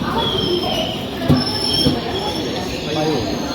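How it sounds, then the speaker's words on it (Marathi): A train pulls into a railway station, its wheels squealing continuously against the rails with a low rumbling clatter underneath and faint voices on the platform. "तर फ्रेंड्स हे आलेले ट्रेन, या ट्रेनमध्ये जायचं."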